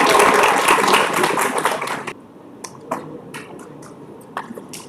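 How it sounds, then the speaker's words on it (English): Audience applause for a panelist at a panel discussion, a dense burst of clapping that stops abruptly after two seconds, leaving a few scattered claps in a quiet room. "Please give her a huge round of applause"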